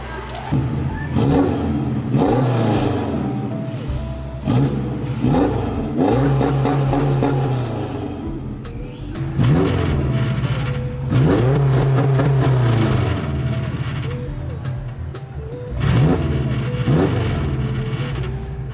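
A car's newly installed exhaust barks through several sharp revs, each rising then dropping off, loud and close, with brief pauses between bursts.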